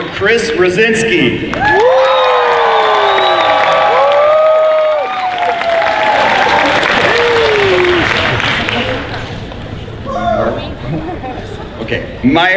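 Audience at the Dragon Con Friday night costume contest in Atlanta applauding and cheering a contestant, loud clapping with whoops that swells then fades into chatter, with a brief renewed burst near the end.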